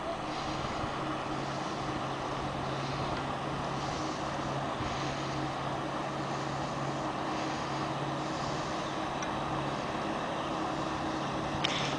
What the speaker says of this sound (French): Un wakeboat, le même que tantôt, qui revient.